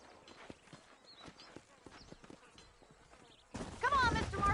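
Horses' hooves clip-clopping at a walk in the Red Dead Redemption western video game, light rhythmic clops under calm dialogue, then a louder burst of hoofbeats and a horse snort near the end.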